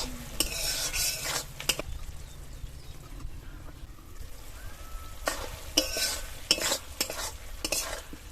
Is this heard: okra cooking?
yes